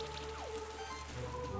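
Acid rain attack from the game Monster Sanctuary plays as a faint, steady patter of dripping with a sliding tone and sustained musical hums beneath, quiet and continuous.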